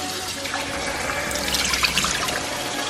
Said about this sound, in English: we're gonna add like about a half a cup of water